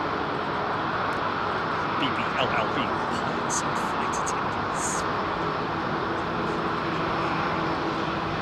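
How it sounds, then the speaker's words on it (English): A heavy airliner with Rolls-Royce Trent 7000 engines at London Heathrow Airport, a loud, steady broadband roar and hum filling the whole stretch without letup, with faint chirps and distant background noise riding over it. "Hear those engines humming away on that Trent 7000s"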